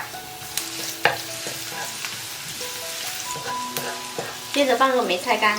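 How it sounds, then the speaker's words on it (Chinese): Minced garlic stir-fries in hot oil in a wok, making a steady sizzle broken by sharp spatula scrapes and taps, and a voice speaks near the end. "起锅热油，先把蒜蓉炒香。"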